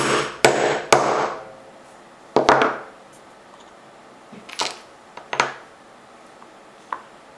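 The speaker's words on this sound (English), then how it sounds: "Place the set tool over the assembly and strike the tip with a hammer" A hammer strikes a metal setting tool to set eyelets on a DIY sneaker upper, sharp taps landing singly and in quick pairs, close and loud with quiet pauses between.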